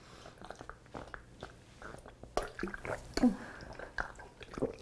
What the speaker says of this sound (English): I just got to have a drink